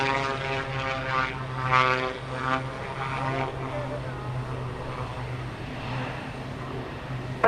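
A propeller aircraft departs at the Fairford airshow: a steady, loud engine drone with a deep continuous hum rises in intensity, while air traffic control radio chatter plays over it.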